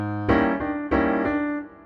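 A jazz piano sounds two sustained, harsh-sounding chords with the fifth in the bass, each struck firmly and left ringing, close and clear with no talk over it.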